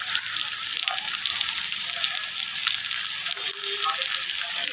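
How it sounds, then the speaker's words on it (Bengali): Long-sliced onions drop into hot oil and fry with a steady, dense sizzle that stays loud and even throughout, close by, with no talk over it. "এখন আমি পেঁয়াজটা ছেড়ে দেবো তেলের মধ্যে"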